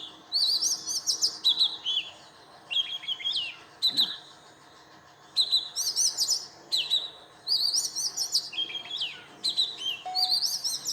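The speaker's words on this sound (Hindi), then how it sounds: "तो इस तरीके की ध्वनि आप सुन रहे हैं" A small bird chirps and sings in quick bursts of bright, warbling tweets, repeating with short pauses over a faint background hum, with one brief thud partway through and a short spoken remark.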